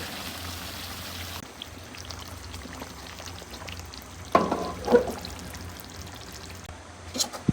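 Nigella seeds (kalo jira) fry in hot oil for a Katla fish oil curry, a steady close sizzling hiss with a few louder crackles and pops near the middle and end.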